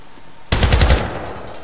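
A sudden loud burst of close automatic gunfire in the 2012 PC game Syndicate, roughly half a second of rapid shots that then fades into a reverberant tail.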